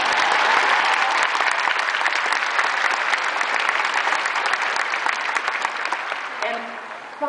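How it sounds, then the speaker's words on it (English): A large crowd at a Virginia Tech graduation ceremony claps loudly and continuously for the graduates' families, a thick sustained roar of applause that tapers slightly at the end, where a voice starts to come through. "let's give them another round of applause"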